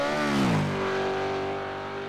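A Supercars race car engine at Bathurst in a racing video game, loud and close, revving high, then dropping in pitch as it shifts down and settles into a steady drone.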